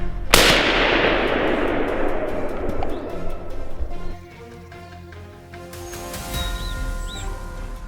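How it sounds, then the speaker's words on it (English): A single sharp gunshot rings out in a forest during a wild boar hunt, loud and close, followed by a long echoing decay among the trees, then quieter ambience with birds cooing. "A sharp gunshot rang through the forest"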